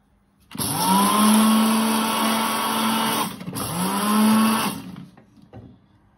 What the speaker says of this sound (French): J'ai rajouté dans le blender la graine de anis et graine de fenouil.